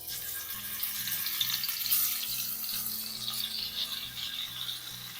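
Fish sizzles steadily in hot oil over a medium flame, a bright, close crackling hiss with a faint rhythmic mechanical clicking underneath and no talk.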